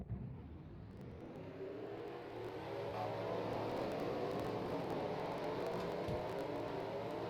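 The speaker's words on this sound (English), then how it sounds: "And now, let's get the trucks rolling off." Racing trucks in a video game truck series roll off at Atwood, a building mid-pitched engine drone that swells and holds steady as the field moves away, loud and continuous with faint whirring.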